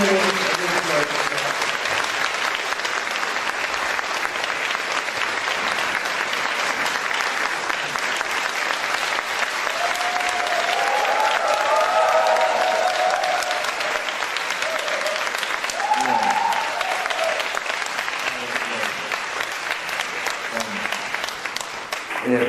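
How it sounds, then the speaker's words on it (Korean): Sustained, steady applause from a large audience welcoming a speaker to a Korean community forum lecture in Sydney, continuous clapping throughout with voices faintly audible beneath. "큰 박수와 환영을"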